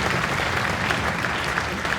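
A school audience claps steadily at a junior spring concert, a dense, even wash of applause from a full room with no voices standing out.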